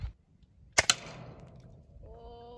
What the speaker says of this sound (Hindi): ये एयर गन है